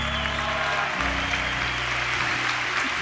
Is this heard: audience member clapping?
yes